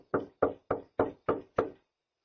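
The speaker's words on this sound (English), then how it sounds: "Knock at the door." Six evenly spaced, solid knocks land on a house's front door, each a sharp thump about a third of a second apart, heard alone and close before silence falls.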